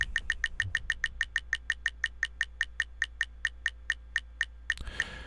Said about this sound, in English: spin this wheel one more time